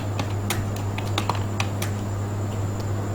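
Fingers clatter on a computer keyboard while a data entry name is typed into an Excel sheet, a quick irregular run of close, crisp keystrokes over a steady electrical hum.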